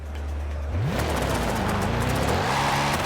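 Corvette C8 Z06 in Forza Horizon 5 idles briefly, then its engine surges into loud acceleration, the pitch climbing sharply through rising gear pulls.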